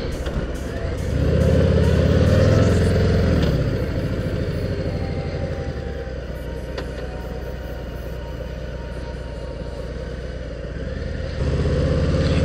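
A 2018 Harley-Davidson Heritage 114 motorcycle being ridden, its engine a steady low rumble that swells briefly, settles into a constant drone, then rises again near the end.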